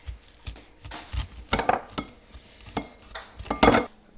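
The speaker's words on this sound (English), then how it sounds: "you're just going to want to take it off the cob with a knife, just nice and clean, and get it into a bowl for the next step" A kitchen knife cuts kernels off an ear of corn into a bowl, giving irregular scraping strokes and clinks of blade and bowl close up, with no talking.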